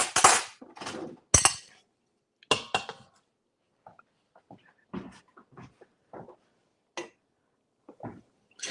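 A bowl and spoon handled in a home kitchen while a peas and rice jerk chicken soup simmers: several sharp clinks and knocks, loud at first and then scattered softer taps, with no talking.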